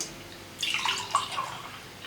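Milk pours into a cup while pumpkin spice milk is made at home: after a short near-silent pause, a soft, close liquid stream splashes and gurgles for about a second and a half.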